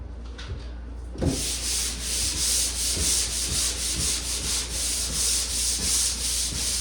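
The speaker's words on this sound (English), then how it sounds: "So just make sure when you're sanding, you give the bottom and the very top a little bit of love too" After a short pause, steady rhythmic sanding of drywall mud begins, a dry rasping scrub repeated in even back-and-forth strokes, close and continuous.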